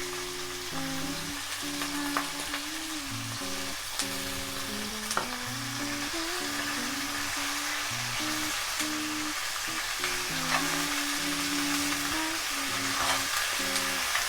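Chicken sizzles in a pan with frying garlic, a steady crackling hiss that runs without a break and is close and fairly quiet. Occasional stirring clinks sound over it, and a faint tonal hum sits underneath.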